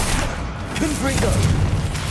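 A Confringo fire spell explodes with a heavy, booming burst amid busy combat in the game Hogwarts Legacy. A voice speaks over the noise.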